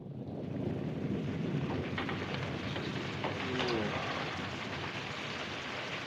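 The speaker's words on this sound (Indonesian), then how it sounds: "Tiba-tiba hujan turun." Steady rain falls throughout a scene in a classic film, a continuous even hiss with birds cooing softly in the background and no talking.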